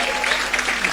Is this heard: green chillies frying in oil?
no